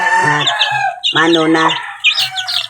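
Young chickens raised from chicks call loudly and close by in a few strained, harmonic, crow-like bursts separated by short pauses, with a brief spoken word.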